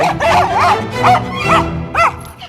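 Two miniature schnauzers barking in a run of four or five loud, close, high-pitched yappy barks with whiny edges, filling the moment with no talk.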